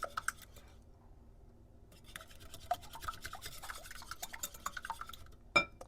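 Eggs being mixed in a bowl, a fast run of small scraping, clicking strokes of a utensil against the bowl, close and fairly quiet, with a louder knock near the end.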